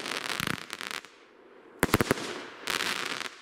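A fireworks battery firing a rapid string of sharp shots outdoors, with bursts of crackling bangs, a short pause, then more quick pops and a final crackling volley.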